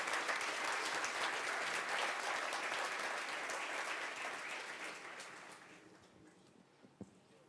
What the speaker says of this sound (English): So if I can please ask you to give a very warm round of applause to the President of the African Development Bank, Mr. Donald Kaberuka.